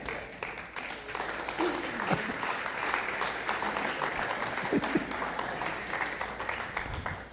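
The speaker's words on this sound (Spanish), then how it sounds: "Demos esa ofrenda de palmas más fuerte" A church congregation claps steadily in a sustained round of applause during a service, dense and even throughout, with a few faint voices mixed in.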